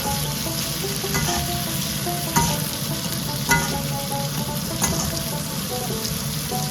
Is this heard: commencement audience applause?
no